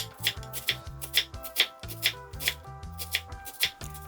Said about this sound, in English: Cut across into dice.